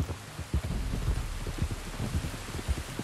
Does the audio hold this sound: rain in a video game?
yes